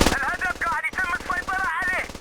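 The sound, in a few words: gunfire in a video game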